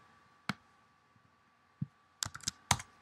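Scattered keystrokes on a computer keyboard while entering spreadsheet formulas, a lone tap followed by a quick cluster of clicks near the end, close and fairly quiet in an otherwise silent room.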